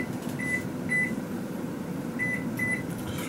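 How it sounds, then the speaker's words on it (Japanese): A microwave oven humming steadily while heating yakisoba, with a few short electronic beeps near the start and end, close and without talk. "ちょっと焼きそばもレンチンしよう。"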